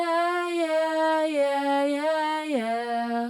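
A sustained vocal line with a high-octaves harmony preset applied in FL Studio gives a thick, layered, slightly synthetic tone. The pitch steps smoothly between notes and is heard alone, with no talk.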